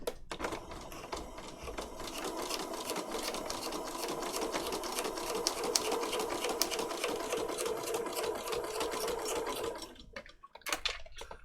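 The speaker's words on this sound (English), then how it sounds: "now I'm just going to do straight stitch across there and down there." A sewing machine runs steadily for about ten seconds, straight-stitching through paper patchwork tags with a fast, even mechanical chatter, then stops with a few brief handling knocks.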